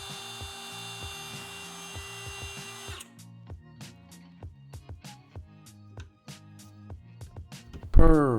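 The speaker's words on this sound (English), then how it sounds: "So I'm going to implore my big black and yellow friend, the router." A big black and yellow router cuts a hole in a pumpkin for a solar-powered Halloween decoration: a steady tool whine for three seconds, then a run of sharp, evenly spaced scraping strokes, ending in a louder burst.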